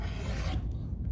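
A rotary cutter or blade slicing along the edge of a fabric quilt block, a close continuous rasping scrape for about half a second, then quieter rubbing, with no talking.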